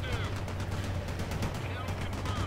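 Armor-piercing gunfire in the war game World in Conflict: rapid, continuous bursts of shots rattle over a low rumbling battle drone, layered with other combat noise throughout.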